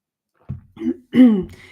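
A few short, rough throat-clearing coughs sound close by, three separate bursts in quick succession with a quiet pause before them.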